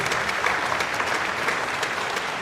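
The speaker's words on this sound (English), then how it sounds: "How about a nice big round of applause for our 4th and 5th grade orchestra." An audience applauds a 4th and 5th grade elementary school orchestra at a spring concert: dense, even clapping from a large crowd, continuous and loud throughout.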